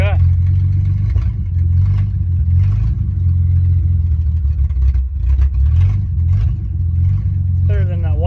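A 1957 Plymouth Savoy engine, worked by a newly fitted gas pedal, rumbles loud and close with a deep, steady, throbbing drone, with a brief rising whine near the start and end.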